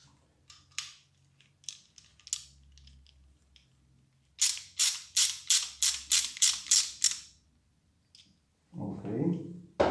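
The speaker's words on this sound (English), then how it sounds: "so I'll tighten this back again." Ratchet tool tightening a part back into place, a quick burst of several sharp clicks in a row, preceded by scattered softer clicks and followed by a brief rougher scrape, close and fairly quiet.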